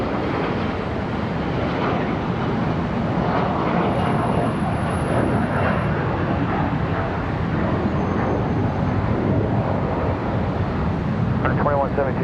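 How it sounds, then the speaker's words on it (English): An ERJ 145 regional jet departing Charlotte Douglas International Airport produces a steady, broad engine roar that holds loud and unbroken throughout, mixed with some wind rumble. "Got an ERJ departure"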